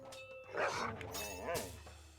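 Dogs bark in the Kingdom Rush tower-defense video game, a few yapping barks and whines in quick succession, fairly faint against a quiet game background.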